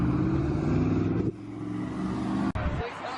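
A race truck at an outdoor truck meet revs its engine loudly and close by, the rumble cutting out abruptly and then returning, while people talk over it.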